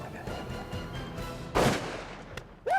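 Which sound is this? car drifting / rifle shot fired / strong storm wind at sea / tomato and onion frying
rifle shot fired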